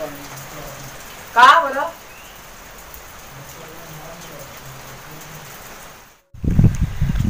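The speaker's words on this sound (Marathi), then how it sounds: "भरपूर पाऊस पडतो आहे." Steady rain falls as a broad, even hiss through most of the stretch, with a brief burst of voice early on and louder, rougher noise near the end.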